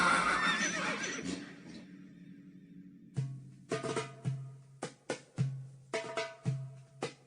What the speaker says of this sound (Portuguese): os irmãos de José saíram de viagem com seus jumentos